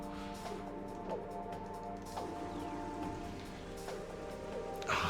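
Steady in-game rain ambience from Metroid Prime 2: Echoes, a continuous wash of falling rain mixed with sustained music tones, even and moderately loud throughout with no talking.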